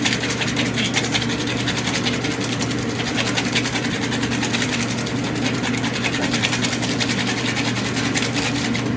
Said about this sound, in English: You're going to use the KitchenAid.